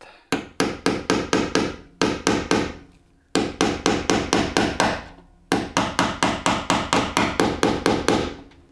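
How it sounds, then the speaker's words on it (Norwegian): Rapid hammer blows on a long metal bolt in four bursts of about six to eight strikes each, sharp and ringing, close by with short pauses between bursts. "I want to use a long bolt is that easier to guide it when I'm going to hit it with the hammer"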